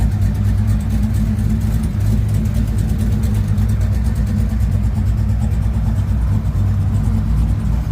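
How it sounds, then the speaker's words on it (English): Chevrolet Corvette C6 engines rumble loudly and steadily at a crowded night car meet in Houston, a deep continuous drone with faint background hiss and no clear revving peaks. "We got a couple Corvettes coming in. C6."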